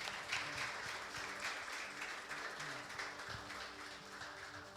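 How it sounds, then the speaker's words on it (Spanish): Sustained applause from a church congregation, a dense wash of clapping that holds steady throughout at moderate distance. "Aplauda a Cristo"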